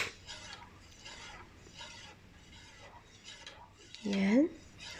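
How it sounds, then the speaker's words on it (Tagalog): A spoon stirring honey into a whiskey hot toddy in a cup, making a soft repeated rasping swirl in even strokes, then a brief louder clink near the end. "Stir lang natin. Stir ng maigi."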